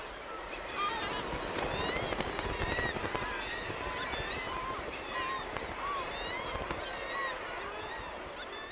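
Dense seabird colony on Skomer island, many birds calling at once in a steady overlapping chorus of short rising cries over a constant breezy wash, with no voices.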